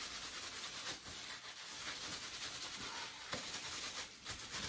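Hands rubbing the edge of a felted wool pouch, a faint, close, continuous scratchy friction in repeated back-and-forth strokes.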